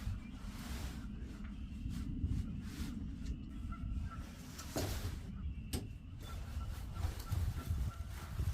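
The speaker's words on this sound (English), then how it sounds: "Hopefully those geese aren't making noise all night long." Geese honking intermittently around a campsite at a lean-to shelter, the calls rising over a steady low background rumble, with a couple of sharper knocks and some faint speech-like sounds mixed in.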